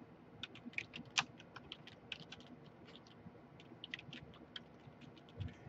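Quiet, close typing on a computer keyboard: a loose run of light key clicks with uneven rhythm and a couple of sharper taps, no voice.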